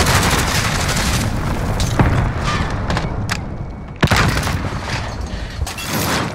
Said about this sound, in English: Allied cruise missile launch.